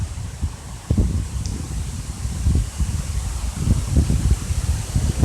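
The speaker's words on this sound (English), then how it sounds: "It's a little windy today" Wind gusts through backyard trees and bushes on a breezy day, a steady rustling rush with low buffeting swells that rise and fall throughout.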